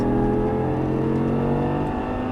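An Audi R8 accelerates hard on a race track, its engine droning loud and steady from close inside the car with a dense, sustained roar and no talking.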